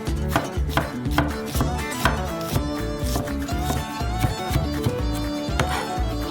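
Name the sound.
chopping shallots with a knife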